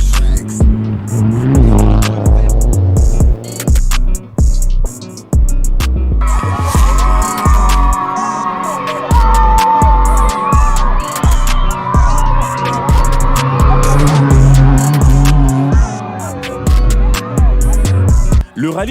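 Rally car of Gary Shane arriving at the Rallye de Gagnoa, a loud, close engine roaring and revving continuously with sharp transient bangs and rattles, sustained throughout without pause.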